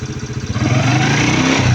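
Motorcycle engine with a carburetor just adjusted, revved from a rough idle into a loud steady higher-pitched drone, close up and alone.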